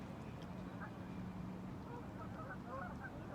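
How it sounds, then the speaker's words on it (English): Geese honk faintly in the distance, a scattering of soft calls over steady outdoor background noise, growing a little busier toward the end. "I love the sounds of the geese behind me."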